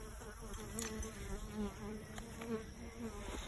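Honey bees buzz steadily inside a hive, a dense close-up drone of many wings with individual bees flaring louder as they pass near, no voices.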